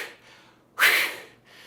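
A clarinet is blown with a fast, low-pressure airstream, giving a single loud, breathy rush of air about half a second long, up close and without a clear pitched tone, between fainter breaths.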